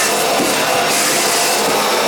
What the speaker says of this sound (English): I use a backpack vacuum cleaner.